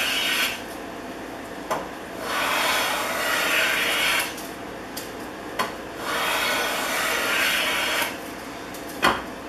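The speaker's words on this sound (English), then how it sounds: "This old beauty's producing some nice shavings." An old Stanley double-end block plane shaves wood in slow, repeated rasping strokes, about four long passes. Light knocks separate the passes, close and moderately loud, with no voices.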